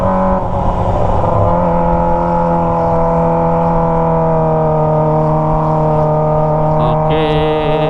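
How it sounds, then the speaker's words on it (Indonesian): A Kawasaki ZX25R motorcycle fitted with a Toce exhaust revs at high RPM, a loud, steady high-pitched engine scream that holds close by for several seconds, with slight pitch wavering. "sekarang rasanya tuh suara Toce udah nggak seberisik dulu ya"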